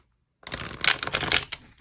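A deck of tarot cards is shuffled up close in a quick riffle of crisp flutters and taps lasting under two seconds, following a moment of silence.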